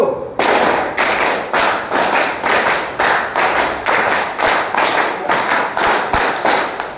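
A group claps in unison to a counted pattern, steady loud claps in repeated bursts filling the whole stretch, no talk over them.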